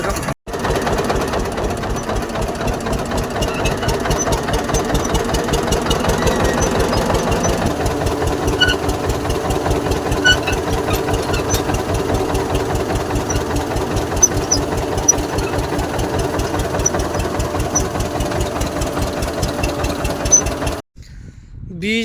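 A tractor engine chugs steadily up close with a rapid, knocking rhythm while an implement is hitched on for wheat sowing, running continuously before cutting out briefly near the end.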